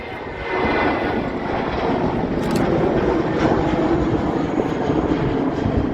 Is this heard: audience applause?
no